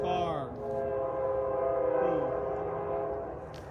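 A train passes near a cemetery, sounding its horn in loud sustained blasts whose pitch drops as it goes by, with a steady rumble of rail cars underneath.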